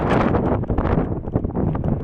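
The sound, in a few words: strong wind on mountain lookout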